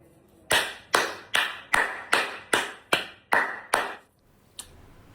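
About nine sharp, evenly spaced hand claps at a steady rhythm, loud and close, followed by a brief pause and one fainter final clap, no voices.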